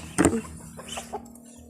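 A chicken's short cluck up close during evening feeding, followed by a few softer clucks fading away against a quiet background hum.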